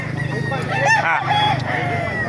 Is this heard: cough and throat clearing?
no